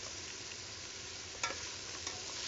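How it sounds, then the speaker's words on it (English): A spoon stirs tomato-based osso buco-style sauce with halibut in a pan over a faint, steady simmering hiss, with two soft scraping bumps standing out briefly; quiet and close. "So we'll give that a good stir."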